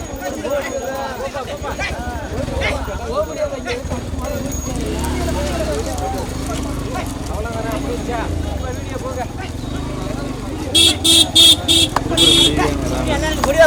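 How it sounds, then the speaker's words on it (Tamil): Racing bulls thunder past during a village bull race at Kadaladi in Ramanathapuram district, hoofbeats rushing by amid a shouting crowd, with several sharp horn toots near the end. "மாடு வருதுப்பா மாடு வருதுப்பா"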